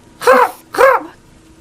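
A voice imitates a raven's call with two short, raspy, snore-like croaks in quick succession, close and fairly loud.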